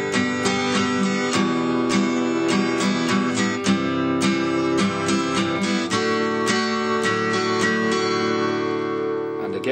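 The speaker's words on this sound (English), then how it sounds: "Next one, strum pattern 5." A guitar strummed in a straight, even pattern: steady, repeated chord strokes, loud and close, continuing for several bars with no talking.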